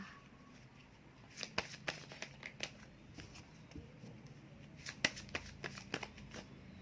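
Tarot cards are spread out across a surface, a quiet close-up run of soft shuffling slides and light flicks that comes in two clusters, with no talking.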